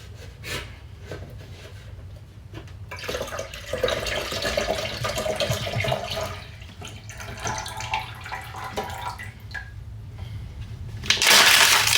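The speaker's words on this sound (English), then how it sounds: "Just top this off with water." Water is poured to top off the reservoir of a Keurig K Select coffeemaker during descaling, a steady close trickling wash that swells in the middle and ends with a brief louder splash.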